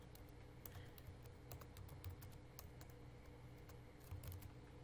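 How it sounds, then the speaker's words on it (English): Rapid keystrokes on a computer keyboard, a quiet, irregular patter of clicks close by, steady throughout with no talking. "I can go in and just click the font and type in happy"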